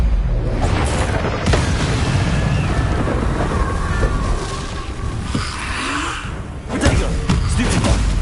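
A Confringo blasting spell goes off in Hogwarts Legacy, a loud broadband boom with a deep low-end rumble, followed by a few more impacts and crackling bursts over a steady roaring background of game noise.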